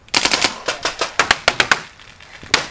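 Rapid bursts of gunfire crack in close, quick succession during a capture the flag game at an outdoor combat arena, loud and sharp with a brief pause before a final shot.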